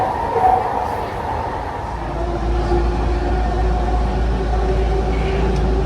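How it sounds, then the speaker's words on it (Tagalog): A train passes in downtown Vancouver with a steady low rumble and rolling hum that builds and holds, heard close and fairly loud with a voice briefly over it. "Mahaba? Hindi mahaba train."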